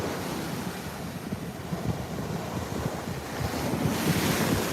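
Ocean surf rolls in steadily at the beach while strong wind buffets the microphone, a continuous loud roar with no voices.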